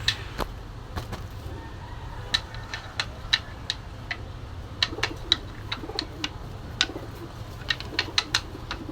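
Young high-flying pigeons at a market give soft low coos, broken by many sharp, irregular clicks and taps over several seconds.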